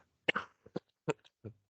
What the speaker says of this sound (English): apologies, a little bit of a cough left myself